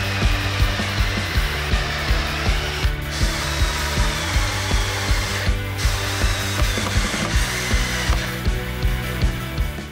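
A drill boring pocket screw holes in 17-inch wooden boards for a patio chair, a steady high motor whine with a rapid rhythmic ratcheting chatter and brief dips in pitch, loud and close, with no talk.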